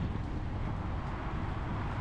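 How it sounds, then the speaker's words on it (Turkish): Steady dry, cold wind buffets the microphone outdoors in Kazan, Tatarstan, a constant low rumbling roar with no pauses. "Bayağı da bir rüzgar var."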